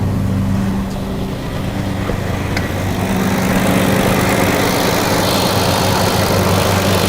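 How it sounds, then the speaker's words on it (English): A 2007 Kia Sedona engine running with its air-conditioning compressor engaged, a steady low droning hum close by at constant level, no talking. "Let's go make sure that the AC compressor is working."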